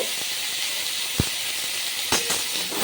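Young hog plums stirred in hot mustard oil with dry chillies and black mustard, a constant loud sizzle and hiss with a few soft knocks from stirring, no voices.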